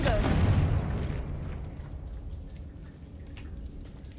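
A Confringo fire-blast spell explodes in Hogwarts Legacy: one loud booming burst at the onset that fades into a crackling, rumbling tail lasting several seconds.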